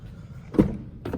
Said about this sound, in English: Popping open the driver door here